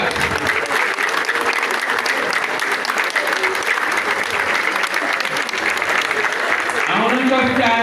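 Sustained applause from a crowd of mourners at a funeral farewell ceremony for an actress of the Hager Fikir Theatre in Ethiopia, dense and steady throughout, with a voice rising over it near the end.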